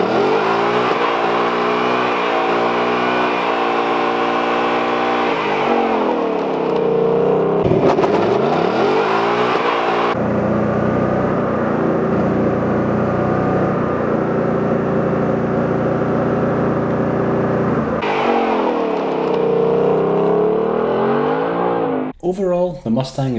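A Ford Mustang 5.0 V8 revs and accelerates hard and loudly nearby, the engine note rising and falling through gear changes with steady drivetrain roar and a brief lull between pulls.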